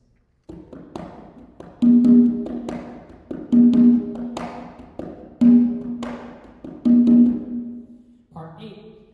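Conga drums playing a simple tumbao groove, with close, resonant open tones ringing out in a steady repeating pattern over lighter slaps and taps, and no voices.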